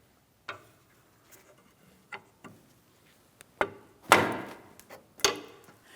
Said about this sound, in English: I'm just using a hammer and a long pry bar.